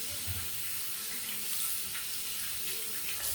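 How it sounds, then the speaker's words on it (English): Running tap water splashes steadily into a sink as hands are washed, a continuous bright hiss with small shifts in the flow, close and alone without talk. "Let me just wash my hands."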